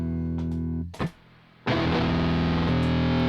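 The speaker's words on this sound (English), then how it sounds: "let's hear some distorted tones of" An electric guitar plays thick, sustained distorted chords through a pedal setup, breaking for a brief near-silent gap and a sharp attack before roaring back loud and full.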